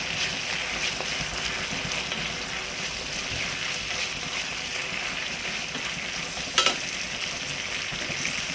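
Sardine thokku frying and being stirred in a pan, a steady close sizzle with scraping stir strokes and one brief sharp clatter near the end.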